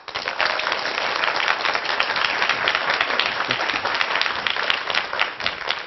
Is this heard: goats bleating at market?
no